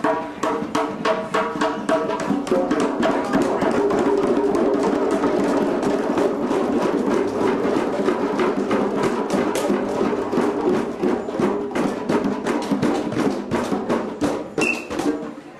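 Sharp, cracking slaps on the rim of a hand drum rattle off in rapid, continuous succession, loud and close, mixed with fuller drum strokes throughout.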